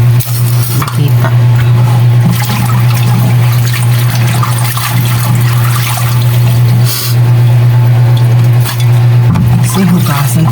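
Water runs steadily from a kitchen tap while kangkong leaves are rinsed again for an omelette, a loud continuous rushing stream with a strong low hum underneath and light splashing, no talk.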